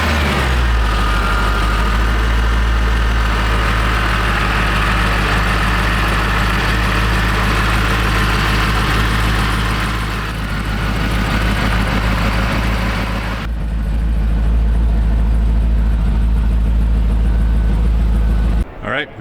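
A Magnuson-supercharged 558 hp LS2 V8 with long-tube headers in a 1932 Ford Dearborn Deuce runs at a loud, close, continuous idle, with a slight dip in the rumble partway through.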